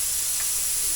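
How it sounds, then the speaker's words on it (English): A leaking pressure canner full of green beans hisses out steam in one steady, loud, broadband rush with no pauses and no voices. "So we have a leak, I think, is what I have Googled. It's not supposed to do that much steam."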